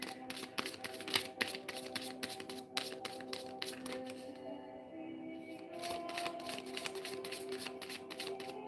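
Tarot cards riffle and slap together in a steady shuffling patter, crisp bursts coming fast near the start before easing into softer continuous shuffling over a low steady hum.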